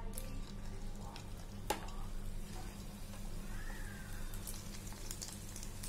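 Cheese balls made from bread corners frying in hot oil, a steady close sizzle and bubbling crackle with occasional sharp pops, no talking.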